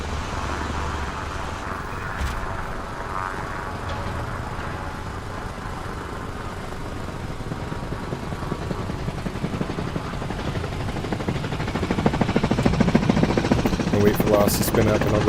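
A helicopter in the video game Arma Reforger spins up, its engine and rotor building into a steady broadband whine and rumble that grows louder toward the end, with voices talking over it.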